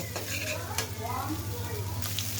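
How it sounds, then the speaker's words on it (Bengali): Spices stirred and frying in a pan for a cooking dish with stalks, a steady close sizzle with scraping stir strokes and a low constant hum underneath, no speech. "আমি এখন সব মশলাগুলো সুন্দর করে নেড়ে মিশিয়ে নিব, ভেজে নিব"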